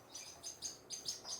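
Small birds chirp in an aviary, a run of short bright tweets repeating at a steady pace, close by and fairly quiet, with no talking.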